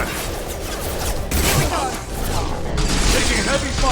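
Heavy, sustained gunfire rattles through a Mass Effect 2 battle in a sandstorm, a dense continuous barrage with mechanical sounds and voices underneath.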